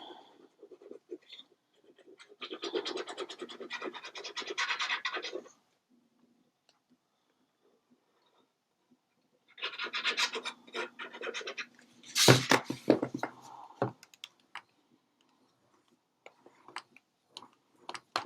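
Paper fold on a craft mini album being burnished, soft rhythmic rubbing and scratching in two bursts separated by silence, followed by scattered taps and a sharper scrape.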